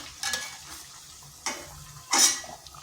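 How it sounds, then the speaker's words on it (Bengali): Radish fritters deep-frying to light brown in oil give a constant low bubbling hiss, broken by three sharp bursts of stirring and scraping in the pan. "এইভাবে নেড়ে চেড়ে হালকা বাদামি কালার করে ভেজে নিতে হবে।"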